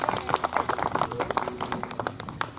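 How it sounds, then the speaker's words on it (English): An outdoor church congregation in a park gives a round of applause for someone about to be baptized. The hand claps are quick, dense and close, and the applause keeps going steadily for a few seconds. "round of applause"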